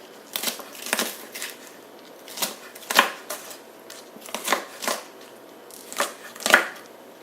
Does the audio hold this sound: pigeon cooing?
no